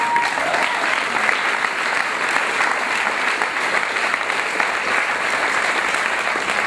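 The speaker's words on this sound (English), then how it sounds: "Round of applause." Audience members at a town hall on culture break into continuous, full applause, a dense and even roar of clapping that stays loud throughout without tapering.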